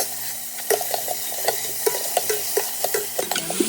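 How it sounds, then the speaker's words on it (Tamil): Green chilies and ginger garlic paste sautéing in a pan for salna, with a steady sizzle broken by regular stirring scrapes and clinks of a spoon, close by and alone. "நல்லா வதக்கி விட்டுக்கோங்க"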